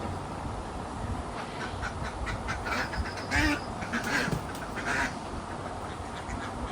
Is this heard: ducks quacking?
yes